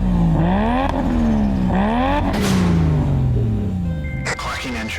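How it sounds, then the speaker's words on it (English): Spaceship engines firing as an audio drama effect, rising and falling whirring sweeps that repeat in waves before a loud whooshing surge and a long descending roar, with voices speaking over it. "Firing engines."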